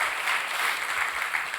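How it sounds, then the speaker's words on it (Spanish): A church congregation claps together, a brief, dense burst of applause filling the room evenly at steady volume. "Podemos darle un aplauso a Dios"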